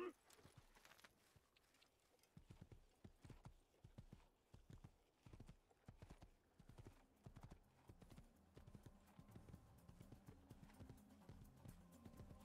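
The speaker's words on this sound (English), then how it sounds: "I'm gonna jump on the horse back." Horse hooves clip-clop in the Assassin's Creed video game, a quiet, even walking rhythm of hoofbeats that starts up after a brief pause and continues steadily, with faint background game ambience.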